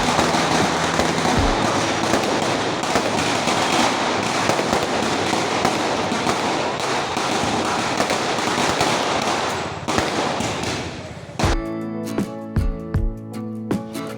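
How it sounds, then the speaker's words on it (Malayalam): Firecrackers bursting near a Ganesha temple, a dense continuous crackle of close, loud bangs that breaks into a few separate sharp reports toward the end. "അതിൻ്റെ അടുത്ത് നിന്ന് തന്നെ പടക്കം പൊട്ടിക്കുന്നുണ്ടായിരുന്നു"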